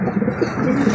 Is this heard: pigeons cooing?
yes